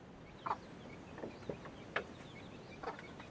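Chickens cluck faintly at a distance, a handful of short scattered clucks against a steady background hiss.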